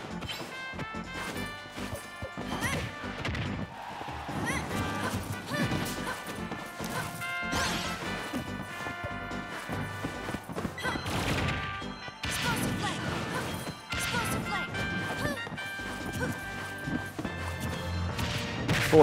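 Forward smash attacks in Super Smash Bros. Ultimate strike wooden blocks, giving a rapid string of sharp cracking impacts and thuds over steady game music for the whole stretch.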